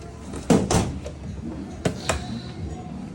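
Drawer of a bike mechanic's toolbox for a World Cup Canyon factory racing team sliding open, a few loud knocks and rattles from metal runners and contents, close and alone with quiet room tone.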